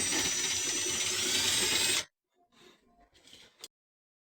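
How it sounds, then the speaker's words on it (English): Milwaukee power drill spinning the stripped gears of a broken coffee grinder, a loud steady high whine for about two seconds that cuts off abruptly, followed by quieter handling noises and faint rustles. "Gears strip out of your coffee grinder, what do? You get yourself a drill."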